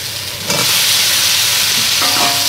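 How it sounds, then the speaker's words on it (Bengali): Fried potatoes hit a pan of cooked-down spiced masala, setting off a loud, sudden sizzle about half a second in that keeps hissing steadily, with a scrape of stirring near the end. "এবার আমি ভেজে রাখা আলুগুলো দিয়ে দেবো।"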